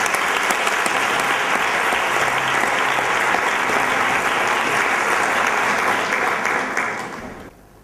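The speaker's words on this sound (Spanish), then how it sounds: "Un aplauso." Sustained audience applause at a music competition concert, loud and dense clapping from a full hall that holds steady for several seconds and then fades out at the end.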